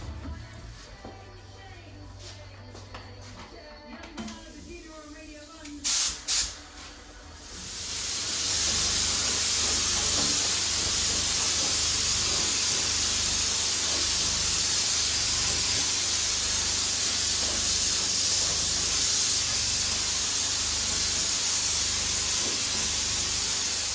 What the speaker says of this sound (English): I'll give the old fabric a blow over with some special blacks dye